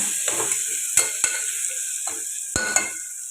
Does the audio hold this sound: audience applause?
no